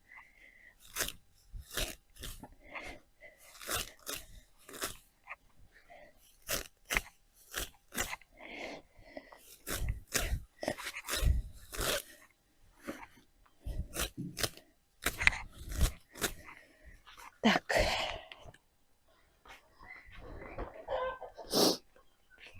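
Sharp crunching and pecking sounds, close and repeated in irregular bursts, as chickens peck and eat, with occasional soft clucks among them.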